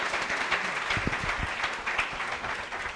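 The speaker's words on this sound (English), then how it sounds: "Round of applause for everybody." An audience applauds after a talk on complications in gastrointestinal surgery, a steady moderate wash of clapping at some distance, with a few lower thumps underneath.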